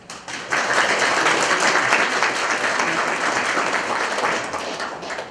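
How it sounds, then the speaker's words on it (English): A seated audience of distinguished guests at the opening ceremony of a Korean War commemorative exhibition breaks into a dense, sustained round of applause that starts abruptly after a brief pause and holds steady for several seconds. "Distinguished guests, please give them another big round of applause."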